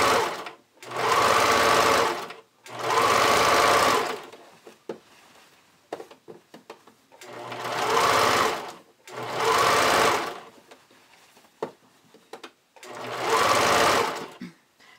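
A home sewing machine stitches the side seam of a bodysuit in five loud, even bursts of rapid needle whirring, each lasting about two seconds. Quiet gaps with small clicks and handling noises separate the bursts.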